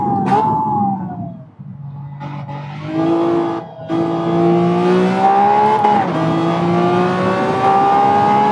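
A Lamborghini race car at Monza in Gran Turismo 7 screams close and loud, with the engine rising through the revs, dropping briefly on gear changes and lifts, then winding up again.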